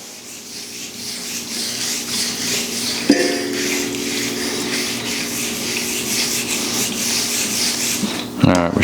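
A scouring pad scrubs a VEVOR griddle surface with continuous close, gritty rubbing strokes, broken by a couple of sharp metallic clinks near the start and end.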